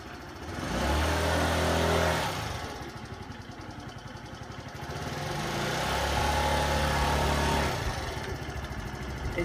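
Direct Bikes DB50QT-A, a 50cc retro moped, running with its small engine buzzing steadily, swelling twice as it revs up and easing back between, close by and alone without talk.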